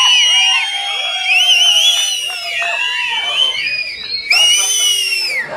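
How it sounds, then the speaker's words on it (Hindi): An audience at a marketing training session whistles over and over, sharp rising and falling whistles overlapping close by with cheering and shouts mixed in. "जरा बजाओ सीटी"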